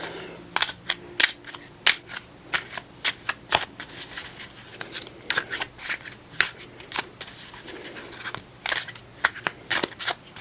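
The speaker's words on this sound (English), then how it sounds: "I will shuffle these cards a bit." Tarot cards from a Golden Dawn deck being shuffled close up, a steady series of sharp riffling and snapping bursts spread over about ten seconds, quiet between shuffles, with no talking.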